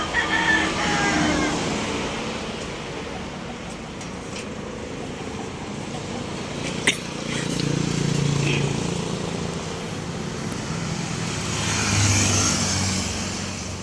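Road traffic on the highway through South Poblacion, Maramag, Bukidnon, a steady broad rumble of passing vehicles with swells as cars go by, heard from a nearby house.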